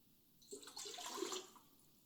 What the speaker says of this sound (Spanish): Lo primero que tenemos que hacer es agregar nuestra agua